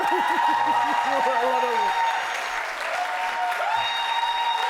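Studio audience applause on a Turkish daytime TV talk show: dense, steady clapping fills the whole stretch while a voice speaks over the opening seconds.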